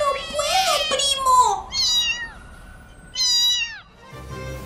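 Several cats meow in close succession, loud drawn-out cries with wavering pitch, some overlapping, followed by a brief pause at the end.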